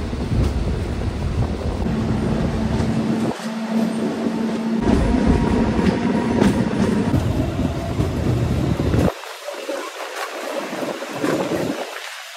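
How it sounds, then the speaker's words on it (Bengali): Local DEMU train on the Lataguri–Siliguri line accelerating, with a loud steady engine roar and rail rumble heard from on board that drops lower and quieter near the end. "এখানটাতে ট্রেনের এক্সেলারেশন দিচ্ছে, আর এদিকে ইঞ্জিন ধোঁয়া ছাড়ছে কি পরিমাণে দেখো।"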